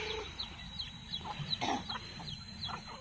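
Chickens cluck in a quick series of short, repeated calls, fairly close, over a steady outdoor background with no speech.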